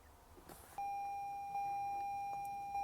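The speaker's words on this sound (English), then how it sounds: "You get the beeping for your seat belts." Seat belt warning chime in a 2017 Toyota Highlander Hybrid with the engine just switched on: a steady electronic beep that starts after a brief rustle and repeats roughly every second, clear and close over quiet cabin hiss.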